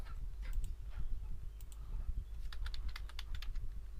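Steady typing on a computer keyboard while filling in a Google Forms checkbox question, with quick irregular key clicks and occasional taps over a low background hum.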